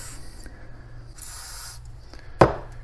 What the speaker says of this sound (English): spray some WD-40 on there.